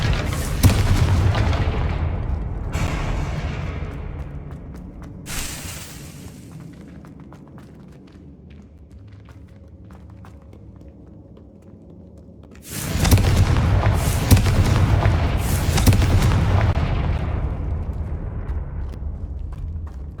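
Fire spell explosions in Hogwarts Legacy, a loud burst of booming blasts at the start, a brief sharp crack a few seconds later, then a long quiet stretch before a second prolonged wave of heavy rumbling explosions that slowly fades.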